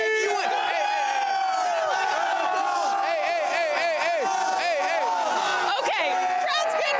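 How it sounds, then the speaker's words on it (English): Rowdy Braves fans celebrate a World Series win at The Battery in Atlanta, a dense crowd of overlapping shouts, whoops and cheers sustained loudly throughout. "Okay, crowd's getting rowdy."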